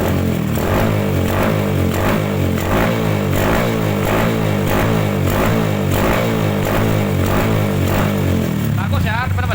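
A Yamaha Byson motorcycle engine runs loud and close with a throbbing, pulsing beat, held at high revs for the whole stretch, with a slight shift in tone at the very end.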